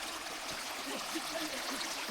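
A river stream flowing on a mountain camping outing, a steady broadband rush of water that stays even and continuous throughout, with no voices over it.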